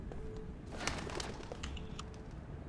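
A bird cooing like a pigeon or dove in the video game Observer, a few faint coos over a dim, noisy ambient game background.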